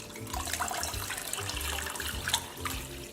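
About 2.5 gallons of water poured slowly into a tin of coffee grounds for cold brew, a steady splashing rush close by with no voices.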